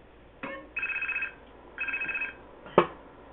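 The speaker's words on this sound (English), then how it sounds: "Phone call." A mobile phone rings in the video game Grand Theft Auto: San Andreas with two electronic trilling bursts, each bracketed by short clicks, clear and close against a quiet background.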